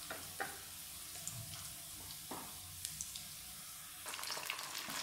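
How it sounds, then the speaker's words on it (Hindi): Egg frying with chopped garlic in a shallow layer of oil in a pan, a steady soft sizzle with a few sharp crackles and spatters, close and alone, growing a little busier near the end. "इसी में मैंने अंडा तोड़ के डाल दिया और इसको अच्छी तरह से फ्राई कर लेंगे"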